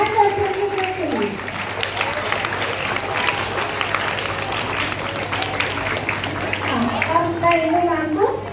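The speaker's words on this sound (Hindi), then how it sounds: "एक बार फिर से तालियां बजाइए आप सभी ब्रांड एम्बेसडर के लिए" Crowd of students and teachers at a school event claps for the brand ambassadors, lively applause with children's voices and chatter mixed in, and someone speaking at the start and end.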